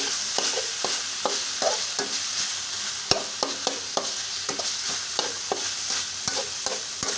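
Pork stir-fried in a pan with larb chili paste from Kamphaeng Phet: a steady hiss of sizzling under a run of sharp, repeated spatula scrapes and knocks in an uneven rhythm, close by.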